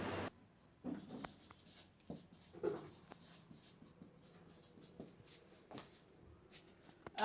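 Pen or pencil writing by hand on paper, quiet scratchy strokes in short bursts with pauses and a few light shuffles, close and faint, no talking.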